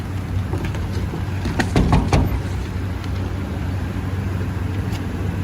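Jump-started vehicle at a school-district vehicle auction running with a low, continuous rumble, with a few sharp bursts early on and outdoor noise around it; no voices.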